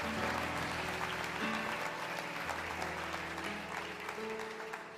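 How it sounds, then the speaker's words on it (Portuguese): A church congregation applauds during a sermon, producing a dense, steady round of clapping over a sustained tonal backdrop, probably instruments playing, that fades slightly toward the end. "Pode aplaudir o Senhor."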